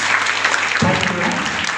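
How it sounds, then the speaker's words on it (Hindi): A church congregation claps loudly and continuously, a thick wash of many hands filling the room, with a low rumble from the hall joining partway through. "ताली बजा देंगे इनके लिए।"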